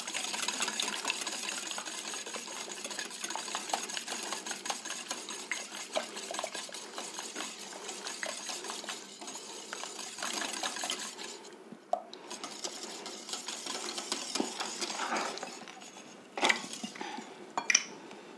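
A cream and egg mixture is stirred for a raclette tart, steady scraping and clinking of a utensil against a bowl running continuously with a brief pause, close and moderately loud, with no talking.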